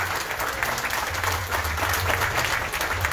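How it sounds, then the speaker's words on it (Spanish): A crowd claps steadily and loudly at a neighborhood political campaign rally in Tijuana, the applause sustained without a break. "Aplauso, por favor, para darle la bienvenida"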